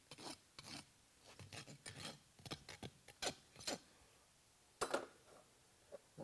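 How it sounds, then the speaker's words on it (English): A farrier rasps the clipped nail ends square on a horse's hoof, a faint close series of irregular gritty filing strokes with short pauses between them, no speech. "Clean the end of the nails up just to square them up."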